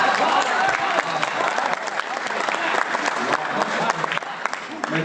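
Audience at a mushaira poetry gathering bursts into strong, dense applause that holds steady for several seconds, with faint cheers mixed into the clapping.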